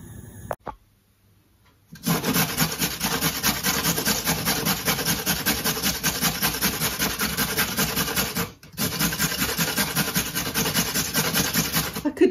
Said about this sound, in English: it doesn't take that long to grate it by hand